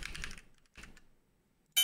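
Keys clatter as a name is typed into a computer keyboard in the detective game Scene Investigators, with a short flurry of taps, a second brief burst, then a sharp final click.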